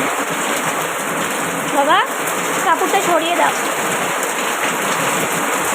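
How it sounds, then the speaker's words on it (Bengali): Heavy rain pouring down outside a house, a dense steady wash of sound from start to finish, with a brief voice speaking partway through. "দেখেছো কীরকম বৃষ্টি হচ্ছে"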